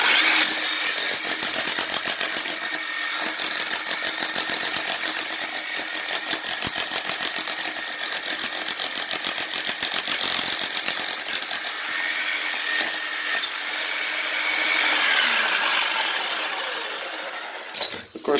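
A power tool chipping tile off a concrete floor, a loud continuous rattling grind with scraping and clinking fragments, close and steady for the whole stretch with no voices.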